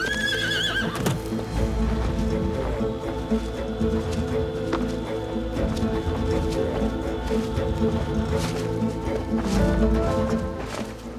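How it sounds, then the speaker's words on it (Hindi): A horse neighs loudly at the start, then its hooves clip-clop in a steady uneven rhythm as it is brought to a halt, heard close and continuous over a busy outdoor background. "घोड़ा यहीं रोक दो।"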